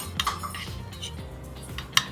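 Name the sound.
stirring egg into pork sisig with cutlery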